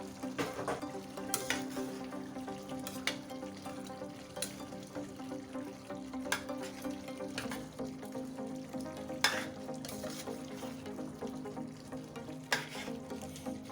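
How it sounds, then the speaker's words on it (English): Quiet, steady sizzling of fish frying in a pot, with occasional clinks and stirring sounds and no voices. "Now the essence of frying the fish first is to give it extra flavor"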